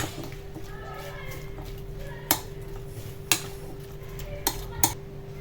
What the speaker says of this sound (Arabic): صافي غادي نخلطهم مع بعضياتهم